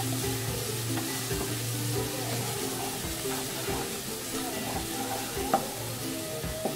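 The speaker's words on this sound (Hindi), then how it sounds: "अब इसको 1 सेकंड के लिए भूनेंगे इस तरह से" Ground spices including garam masala, dried coriander powder and black pepper being stir-fried in a pan for egg curry: a steady sizzle with repeated scraping stir strokes, close and continuous, no voices.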